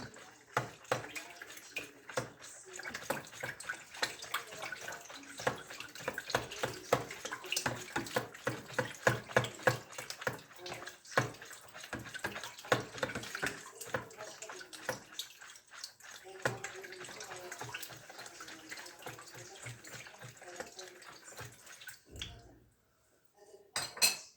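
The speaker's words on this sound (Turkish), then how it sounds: "Şimdi iyicene karıştıracağım bunu ki e, birbirini özleşsin." Poğaça dough ingredients being stirred together in a bowl, a steady run of clinks, taps and wet mixing scrapes with rhythmic bursts, close and fairly loud, stopping briefly near the end.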